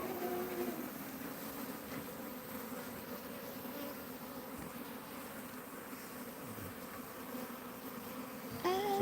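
A swarm of bees being handled during a live bee rescue fills the air with a steady, dense buzzing that holds throughout at close range, with no talking.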